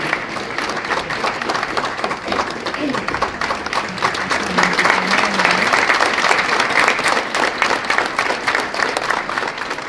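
An award-gala audience gives loud, continuous applause, a dense mass of clapping that swells midway, with a voice speaking faintly underneath.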